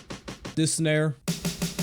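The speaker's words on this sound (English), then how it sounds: "this snare," A snare drum sample struck in quick repeated hits with crisp, bright cracks; a voice briefly speaks in the middle before the snare hits resume.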